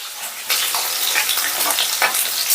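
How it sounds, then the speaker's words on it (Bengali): Two large chicken leg pieces sizzling in hot oil over high heat, a loud, close, continuous frying hiss with bursts of crackle and no talking. "এবারে চিকেনগুলো ভেজে নিচ্ছি। প্রথমে আমি লেগ পিস দুটো ভেজে নিচ্ছি"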